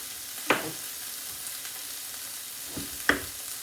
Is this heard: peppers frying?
yes